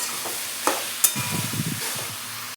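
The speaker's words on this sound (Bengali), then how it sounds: "সবজিটা ভালো করে ফ্রাই হয়ে গেছে" Vegetables fry in a wok with a little chilli powder, a steady close sizzle broken by sharp scraping clicks of a spatula and a burst of stirring scrapes midway, no voices.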